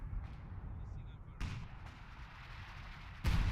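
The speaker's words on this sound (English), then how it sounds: "Artillery moving in." Artillery fire in the Company of Heroes video game, heavy booming impacts, one midway and a louder one at the end, over low battlefield rumble with faint talk.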